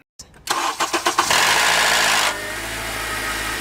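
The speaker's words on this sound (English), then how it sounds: "Some K series engines have been known to have a slight rattle that you can hear when you start the car" Starter cranking pulses give way to a cold Honda Accord Crosstour K-series engine firing up with a raspy rattling rev, then dropping to an even idle, close and loud.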